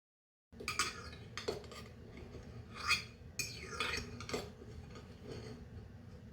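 Metal cutlery clinks and scrapes against a dish while lifting a hot, freshly baked walnut brownie with caramelised nuts, a series of sharp close taps and scrapes with no talking.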